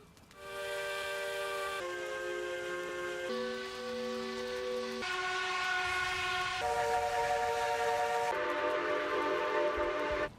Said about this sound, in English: will we be able to put different whistles on different locomotives?